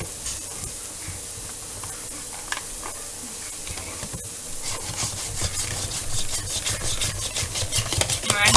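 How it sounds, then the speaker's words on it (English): Zucchini slides repeatedly across a mandoline blade in a home kitchen, soft scraping and rubbing strokes that grow quicker and louder toward the end, with a faint background hum. "let's finish up these zucchinis with the mandolin"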